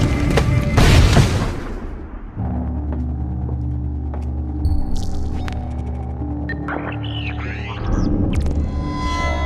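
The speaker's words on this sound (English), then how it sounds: "Grenade!" Grenade explosion in the Splinter Cell video game, a deep booming blast at the start that rolls into a long low rumbling hum, followed by softer electronic tones and scattered effects.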